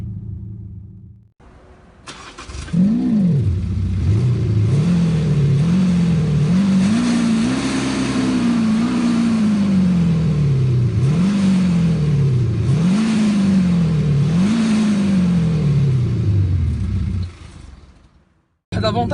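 A BMW 1 Series engine revs repeatedly through its exhaust, about half a dozen rising and falling blips over a steady idle, loud and close, with no talking over it.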